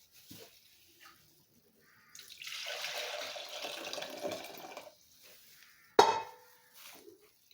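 Water is poured into a jar of pickled peppers and carrots, a soft splashing stream lasting a few seconds, then a sharp knock of the jar and a few faint handling sounds.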